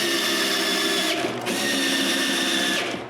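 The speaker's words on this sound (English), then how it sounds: "But I still drill all the holes for the screws." A power drill bores screw holes in wood, a loud close whine that holds steady, briefly dips and picks back up, then winds down at the end.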